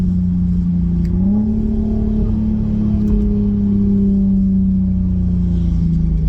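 Close, loud Audi TT engine with a larger exhaust pipe idling and rising into a steady rev, a low rumbling exhaust note holding throughout without voices.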